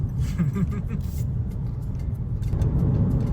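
Slow road traffic in Hawaii rumbles steadily, with car and bus engines idling and creeping close by in a continuous low drone.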